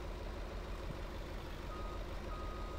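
A semi truck backing up to hook a trailer in Farming Simulator 19, a constant low engine rumble with faint reversing beeps, steady and unbroken.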